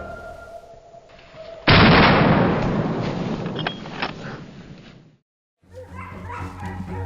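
Hunting dogs bark in a forest during a wild boar hunt: a sudden loud blast opens a long, noisy rush, then after a brief silence several close, sharp barks and yips follow.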